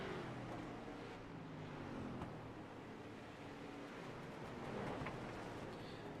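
Race cars lap Langley Speedway in a sim racing game's Street Stock series, engines droning steadily and continuously at moderate loudness, with no talk heard.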